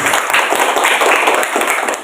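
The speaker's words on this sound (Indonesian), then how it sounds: "kasih tepuk tangan" A seventh-grade class claps their hands in a classroom, close and loud, a quick, slightly uneven patter of many palms throughout the short burst.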